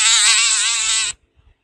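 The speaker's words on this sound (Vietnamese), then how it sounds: "Muỗi." A mosquito buzzes close and loud in a steady, high whine for about a second, then cuts off abruptly into near silence.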